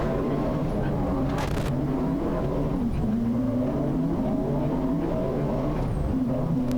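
750MC Roadsports race car at speed around Silverstone, a loud continuous engine drone with shifting pitch as it accelerates and changes gear, heard close from onboard with some talk faintly beneath.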